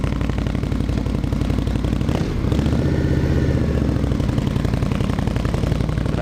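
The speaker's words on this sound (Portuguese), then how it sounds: "Olha a rotação bem alta, 1400," An Indian Scout motorcycle engine idles high in extreme cold, a steady close pulsing throb with mechanical clatter that runs throughout, briefly dipping around the two-second mark.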